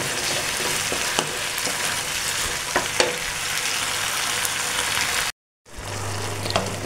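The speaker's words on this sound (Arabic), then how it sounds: "ونقلب. وننزل بالفلفل بتاعنا" Peppers fry in a pan for ful medames with a constant close sizzle, punctuated by scraping stirs and small knocks, then a brief silent cut before the sizzling resumes.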